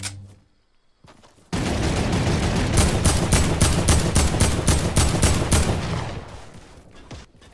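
Sustained turret gunfire in a PC video game, a long burst of rapid, loud, evenly spaced shots pounding for about five seconds after a brief quiet start, then cutting off.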